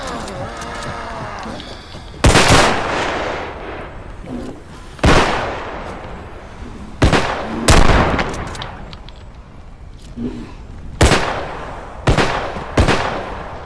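Gunshots from a realistic zombie video game ring out as sharp, loud single reports spaced every second or two, each with a short decaying tail over a low background.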